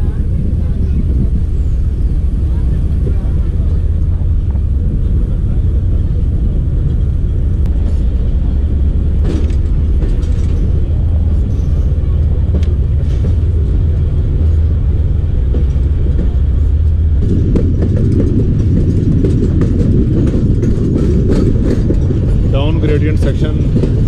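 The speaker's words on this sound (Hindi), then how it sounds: "जाफर एक्सप्रेस डिपार्ट कर रही है कोयटा के लिए मच्छ रेलवे स्टेशन से" The Jaffar Express pulls out of Mach railway station toward Quetta in push-pull with three RG20 locomotives, a heavy continuous rumble and clatter of rolling stock building up, loud and close, with voices over it.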